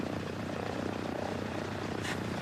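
A distressed aircraft on an emergency approach to a runway, heard as a steady, loud engine roar with a rotor-like drone, continuous throughout with no talk over it.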